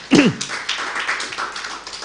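A church congregation claps for God during a sermon. A brief voice at the start gives way to a steady, dense patter of many hands clapping at moderate volume.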